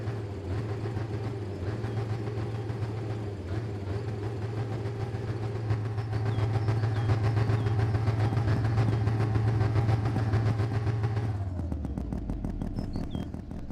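The engine of a Corris car in the My Winter Car video game runs in a continuous low drone that swells slightly before cutting off near the end, with no talking.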